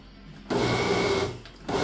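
A blender whirs loudly as it mixes a pineapple jalapeno hot sauce, kicking in abruptly after a quiet moment, holding a steady motor drone, dipping briefly, then surging again at the end.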